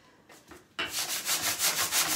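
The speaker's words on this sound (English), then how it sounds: "I'm being quite vigorous with my sandpaper." Sandpaper rubbed vigorously over a transfer on a Saltwash paint finish, a light scuff then loud, rhythmic back-and-forth rasping strokes, close up.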